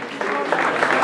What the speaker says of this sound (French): on va appeler notre ami Charlie Disco sous vos applaudissements.